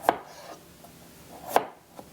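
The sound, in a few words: knife cutting potatoes into pieces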